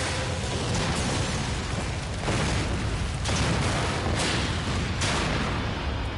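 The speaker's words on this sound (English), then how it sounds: "There's a lot of explosions." Explosions from the Resident Evil 4 video game in a dense, continuous barrage of booms and bursts, loud and close, layered over steady rumbling game noise with no talking.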